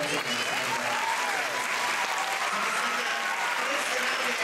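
Dense, steady applause from a theatre audience fills the whole stretch after a dance school show, a continuous wash of many hands clapping with no pause.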